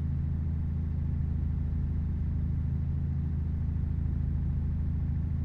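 Old Scania Streamline truck engine in a truck driving video game, a steady low diesel drone running evenly at constant load with no change in pitch, alone without talk.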